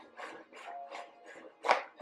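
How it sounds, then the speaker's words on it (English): Whisk stirring flour and baking powder in a bowl, a close dry scraping swish repeated in steady rhythmic strokes, about eight passes in two seconds with one louder stroke near the end. "Take your whisk and let's mix that up."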